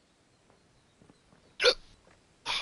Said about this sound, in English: No, hiccups again.